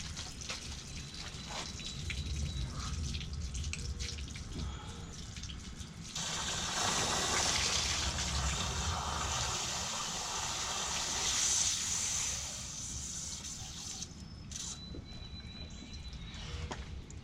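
Steady water gushing from a hose onto a HighTech diamond lapping wheel used for grinding cups, a broad continuous rush that swells louder midway and then eases as the flow is turned down.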